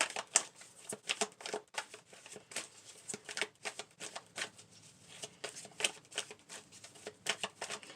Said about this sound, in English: Let's pull some cards for clarity here for Taurus.